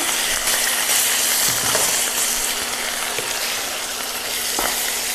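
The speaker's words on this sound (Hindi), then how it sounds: "तो तेल अच्छी तरह से गर्म हो चुका है। तो यहाँ पर हमने 300 ग्राम मटन का कीमा लिया है, ये इसमें हम डाल देंगे।" Minced mutton (300 grams) hitting hot oil gives a loud, dense, continuous sizzle and crackle, close up and unbroken for several seconds with no voices.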